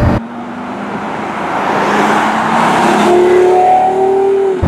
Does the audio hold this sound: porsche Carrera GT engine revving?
yes